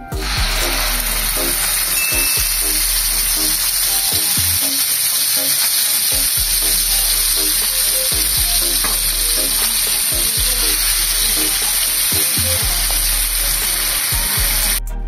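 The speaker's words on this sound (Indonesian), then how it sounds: "Kita tumis bumbunya, kita aduk." Ground spice paste being sautéed in oil for peanut-sauce cilok, a loud, close, unbroken sizzle with repeated scraping strokes of a spatula stirring through it, no voices.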